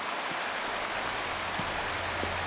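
A waterfall in the video game Wuthering Waves pours as a constant broadband rushing hiss, steady and fairly loud, with a faint low hum underneath and no talk.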